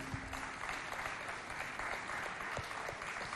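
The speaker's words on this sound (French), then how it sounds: "J'appelle ici, sous vos applaudissements, Monsieur Abba Ahmad Kadara." Steady applause from an audience at a youth holiday event in a neighbourhood community hall, a dense even patter of many hands clapping continuously at moderate level with no speech over it.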